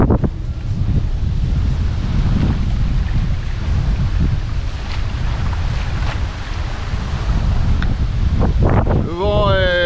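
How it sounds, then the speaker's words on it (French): Strong wind at a windfoil sailing spot buffets the microphone in a constant low roar, with gusty rumbling throughout and a brief faint voice near the end. "En plus, il y a pas mal de vent."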